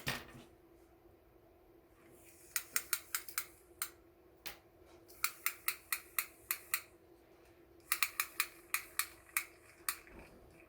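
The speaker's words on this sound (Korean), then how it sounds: "120cm씩 두 줄을 잘라 줄 거예요." Scissors cut cotton twisted macrame cord in crisp, sharp snips, first in a few quick runs and then in rhythmic bursts, close and clear against a quiet background.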